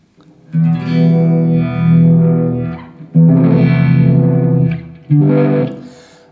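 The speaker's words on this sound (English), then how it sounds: "see what the Uni-Vibe sounds like in front of the just in front of the natural overdrive tones of this beautiful amplifier" An electric guitar played through a Uni-Vibe pedal into an overdriven tube amplifier rings out in three sustained, throbbing, distorted phrases. Each one swells and fades before the next begins.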